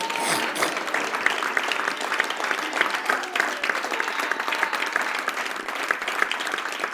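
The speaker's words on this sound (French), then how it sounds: "acclamez très très fort le Seigneur" A church congregation claps loudly and steadily, with scattered cheers, praising the Lord. The crowd sounds close and dense, and the applause holds evenly throughout with no talk over it.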